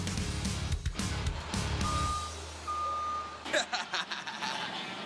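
A barbecue truck being customized by West Coast Customs idles with a low engine rumble while two distinct reversing beeps sound, followed by clattering shop noise.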